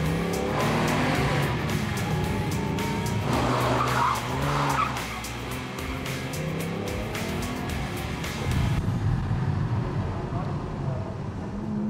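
A classic Mercedes 300 SL Roadster accelerates with loud tire squeal and engine roar, heard close and continuously, with voices talking over it.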